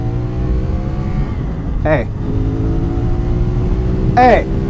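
A 47-horsepower twin-cylinder 450 SR motorcycle engine drones steadily with a low rumble, rising in pitch twice as it revs up through the gears, with no talking.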